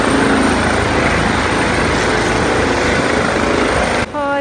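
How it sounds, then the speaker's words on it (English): Helicopter sitting on a football pitch at a stadium during a medical emergency, its loud steady rotor and engine roar filling the whole clip before cutting away abruptly near the end. "There's a helicopter on the pitch."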